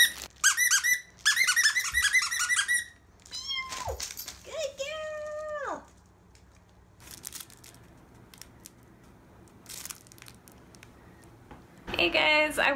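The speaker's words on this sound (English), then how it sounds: "A crinkly bee! Oh my goodness! She loves things that crinkle. And it squeaks!" A squeaky, crinkly plush bee dog toy squeaks in rapid repeated bursts, loud and close, with long rising-and-falling squeals between pauses and excited voices nearby.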